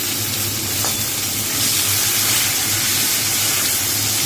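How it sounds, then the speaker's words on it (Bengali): Onions and a bay leaf sizzle in hot oil in a pan, a steady close frying hiss with faint stirring scrapes, and no talk over it. "এবার একটুখানি জাস্ট হালকা ভেজে নেব।"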